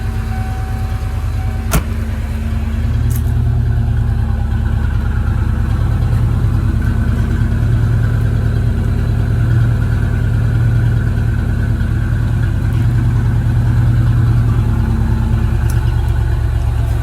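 A 1993 Ford Mustang Fox-body convertible settles into a steady, close engine idle after a quick start, with a low continuous rumble and a faint click near the beginning, no voices.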